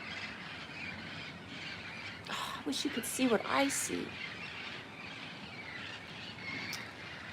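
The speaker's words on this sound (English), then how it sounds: "Can you hear these birds? They're psycho." Several sharp, squawky bird calls burst out in a brief cluster midway, fairly close, over steady outdoor background and a person speaking.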